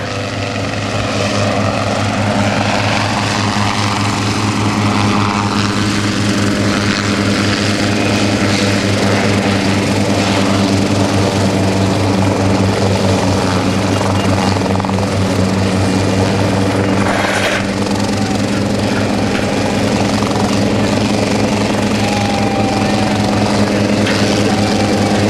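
A remote-controlled helicopter at a 2009 NAS Oceana airshow hovers and comes in to land, its loud, steady rotor and engine drone filling the whole stretch, with faint talk beneath.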